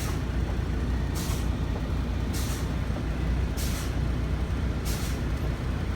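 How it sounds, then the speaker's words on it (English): Air brakes on a Swift truck being fanned to bleed off pressure, giving four evenly spaced sharp hissing releases about a second apart over a steady idling engine rumble inside the cab. "So I'm going to go ahead and fan my brakes."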